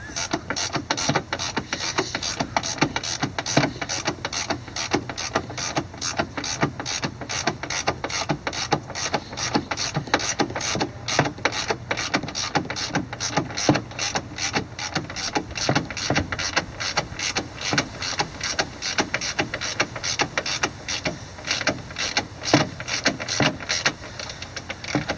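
Rapid, steady clicking of a ratchet snugging up the bolts on an S&B cold air intake for a 6.7 Ford F250, continuous and close for the whole stretch with no talking.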